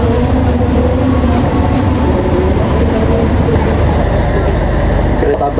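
Inside a brand-new passenger train carriage, only two weeks out of the factory, a constant loud rumbling hum of the moving train fills the cabin, steady and unbroken throughout.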